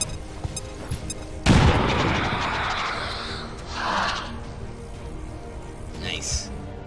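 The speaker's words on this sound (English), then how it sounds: "Je lance une grenade!" A grenade goes off in XCOM 2 with a sudden loud boom and a long rumbling tail. A voice speaks over the game sounds, followed by a few smaller bursts.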